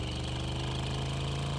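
A car engine running in the driving game Drive Beyond Horizons, a steady loud mechanical drone with a rapid knocking pulse and no variation across the whole stretch.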